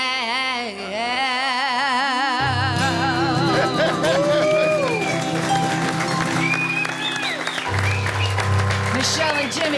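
Studio audience at a country music diner show breaks into loud, sustained applause with some cheering, following a singer's sung notes, with a voice speaking over the clapping.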